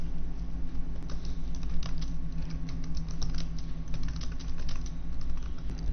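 Typing on a computer keyboard, a steady run of light, quick key clicks at an even pace over a low constant hum, with no voices.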